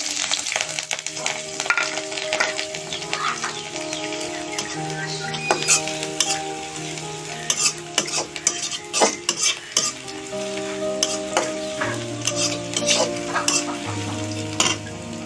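Green chillies and onions sizzle in hot oil as a utensil stirs and scrapes the pan, with sharp metallic clinks and scrapes rising over a steady frying hiss.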